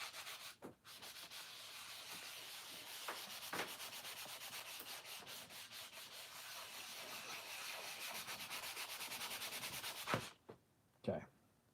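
Light sanding knocks a sharp edge down to a small bevel on a handmade designer toy, giving a steady close rubbing rasp that runs continuously before stopping, followed by a couple of brief handling sounds.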